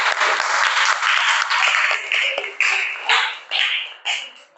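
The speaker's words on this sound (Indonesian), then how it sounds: "tepuk tangan untuk semuanya" Students in an Indonesian classroom applaud during an Islamic religious education lesson. A burst of many hands clapping fades into shorter, separate bursts, with children's voices rising over the later ones.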